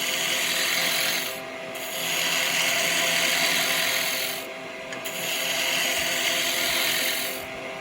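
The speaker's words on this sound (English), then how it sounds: "Using the round chisel, keep it rolled over." Loud, continuous rough scraping hiss of a round carbide chisel turning wood on a lathe, with a steady motor hum beneath and the cut briefly easing off twice before resuming.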